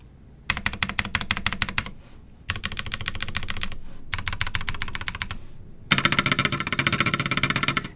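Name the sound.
typing on Snake60 keyboard with Tecsee Coral switches, QX keycaps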